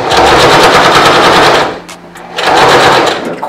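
A sewing machine stitches fabric for an apron, its needle hammering in a loud, rapid, continuous buzz that stops briefly at a corner, then starts running again at full speed.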